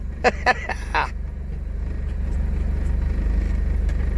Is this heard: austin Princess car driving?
yes